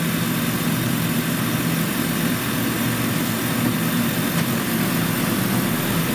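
A 2007 Chrysler Pacifica with a fuel injector problem idling as it is shifted into gear, a steady, close engine drone with low vibration that holds even and unbroken throughout, with no talking.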